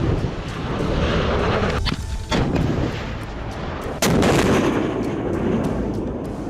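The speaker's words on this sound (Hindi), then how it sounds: "सेना की त्रिशक्ति कोर ने इतनी ऊंचाई से एंटी टैंक गाइडेड मिसाइल यानी ATGM दागने का अभ्यास किया।" Loud, continuous rumbling blasts from an anti-tank guided missile (ATGM) firing during an army infantry exercise at high altitude, with a sharp crack near four seconds, heard alone without voices.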